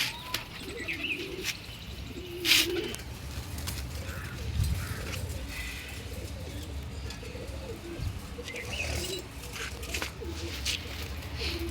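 Pigeons coo softly and repeatedly in the background, with occasional chirps and a brief flutter of wings over a steady outdoor hum.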